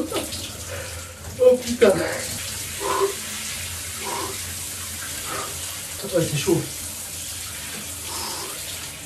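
Shower water running in a home bathroom makes a steady hissing spray at moderate level, while someone speaks briefly over it in short exclamations.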